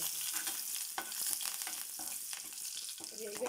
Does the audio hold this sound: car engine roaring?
no